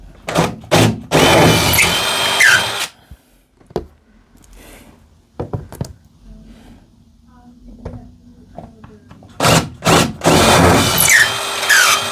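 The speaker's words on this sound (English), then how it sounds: "now our last and final hole to drill" A power drill drilling holes in a wall whines loudly in two bursts, one at the start and one at the end, with quiet clatter and brief knocks in between.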